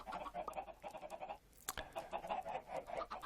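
Chickens in a Minecraft-style video game with wooden tools, a run of repeated clucks from nearby birds with a sharp click in the middle and no talking.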